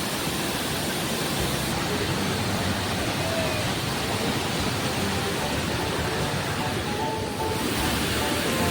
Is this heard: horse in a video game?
no